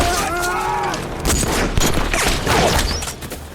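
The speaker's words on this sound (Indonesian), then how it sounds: "tembakan seorang sniper tepat mengenai kaki Kolonel James." A dense volley of gunshots cracks and booms in quick succession, loud and close, with a wavering tone in the background at first.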